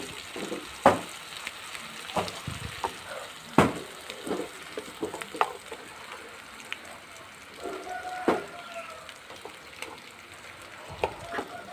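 Turmeric and chili powder fry in a pan with curd, giving a low crackling sizzle broken by sharp clicks and stirring knocks throughout.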